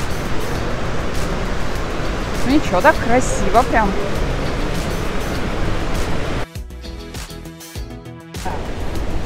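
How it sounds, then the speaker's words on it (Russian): Lower Falls in Johnston Canyon, Banff, roars as a constant loud rush of falling water, with people talking briefly over it and a short chirping sound midway. "И вот мы выходим к первому водопаду."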